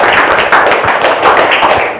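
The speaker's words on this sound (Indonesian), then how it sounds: "Berikan aplaus untuk kelompok 4." A classroom audience applauds a presenting group with steady, loud, close clapping and scattered sharper taps throughout.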